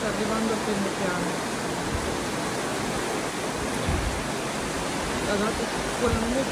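A loud, steady rush of floodwater fills the scene in Catarroja, Valencia, with a voice faintly audible under the churning.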